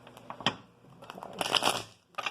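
Tarot cards being shuffled close up, a soft papery riffle and crackle in uneven bursts, swelling to a louder rustle near the end.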